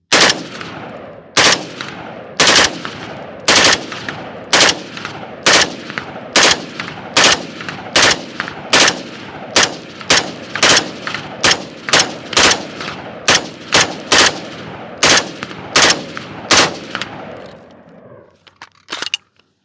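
Rifle fitted with an Atrius forced reset selector fires a long run of loud, sharp shots in short rapid bursts, close up and unaccompanied by talk, with a brief echo trailing off at the end.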